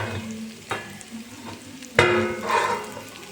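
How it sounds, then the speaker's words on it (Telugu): Okra fries in a pan on a low flame with a soft, steady sizzle, broken by a few close scraping stirs. "మీరు మంట తగ్గించుకొని సిమ్లో పెట్టుకొని ఫ్రై చేసుకోండి"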